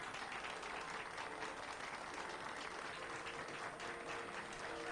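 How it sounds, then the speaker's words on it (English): A party crowd in the video game Mass Effect 2 applauds with dense, even clapping that stays steady for the whole stretch. "And then everybody clapped."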